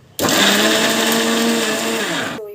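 A kitchen mixer grinder switches on abruptly and whirs loudly and steadily as it grinds protein laddu ingredients, running for about two seconds before cutting off.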